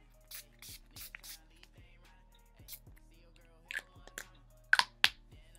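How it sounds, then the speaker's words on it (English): A few short hissing bursts of Urban Decay All Nighter setting spray on a face, close and soft, mixed with small clicks and handling noises in a quiet room. "I'm just gonna set my face with my Urban Decay All Nighter Spray."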